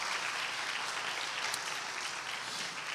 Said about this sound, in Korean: 우리 한번 격려로 박수 한번 하도록 하겠습니다